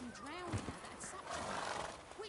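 A horse neighs briefly in The Witcher 3, a close whinny with hooves and other game sounds mixed in.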